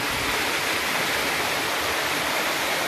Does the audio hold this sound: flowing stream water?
yes